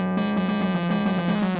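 A clean, pure synthesizer waveform plays alone as a steady tone, softly pulsing in quick, even beats throughout.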